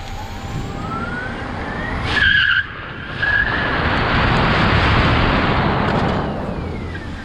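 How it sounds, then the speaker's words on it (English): Tyres squeal and scrub as a small MG converted to electric power spins its wheels. A loud, sustained screech with a brief dip midway, heard close with no talk. "my problem now is controlling wheel spin, even from a rolling start"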